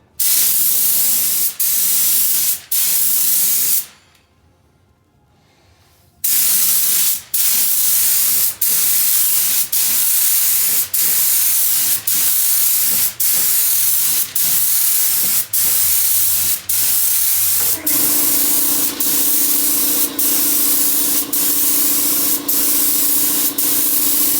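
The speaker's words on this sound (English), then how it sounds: "I'm going to be spraying the poly on to get a nice clear, even coat." Continuous hissing aerosol spray of clear polyurethane coat in long bursts, briefly stopping for a couple of seconds, then resuming with a faint rhythmic clicking underneath.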